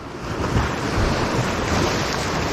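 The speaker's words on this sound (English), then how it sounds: "There's a little bit of a swell" Ocean swell breaks and washes along the rocky Irish coast, a loud continuous roar of surf with wind buffeting the microphone and no voices.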